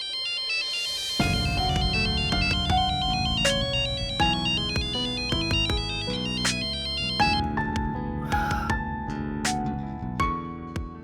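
A mobile phone ringtone plays a melodic electronic tune, loud and continuous, ringing on without being answered, with no voices over it.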